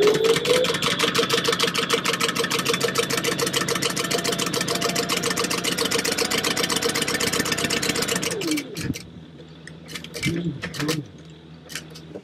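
A sewing machine stitches clear vinyl binding on a Mario book bag, running in a steady, fast, loud mechanical whir for about eight seconds, then stopping, followed by a few short bursts and clicks as the work is turned.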